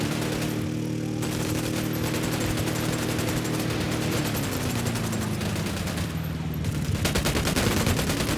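Sustained bursts of automatic gunfire rattle nonstop in Ghost Recon Wildlands, loud and close over a low engine drone, with no talking.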